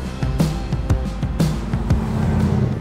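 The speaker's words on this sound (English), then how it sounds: "The whine of the motor, hearing that supercharger whine" Supercharged AMX Javelin muscle car engine runs close by, a deep rumbling drone with a steady whine emerging, broken by several sharp clicks and pops.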